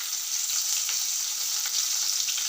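Green chillies drop into hot oil already popping with mustard seeds, cumin and asafoetida, giving a steady, close, bright sizzle with small crackles and no voices.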